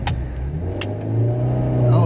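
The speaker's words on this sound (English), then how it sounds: "You don't gotta do burnouts and shit in a parking lot." A car engine revs up in a parking lot, a steady mid-pitched drone that climbs and grows louder toward the end, with people talking over it close by.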